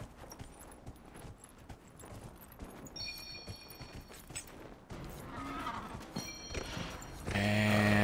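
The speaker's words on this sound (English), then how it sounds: "mount the horse. Ride to the starting gate" Horse hooves clip-clopping in Dragon Age: Inquisition, a steady rhythmic gait under game music and ambient effects, growing louder near the end.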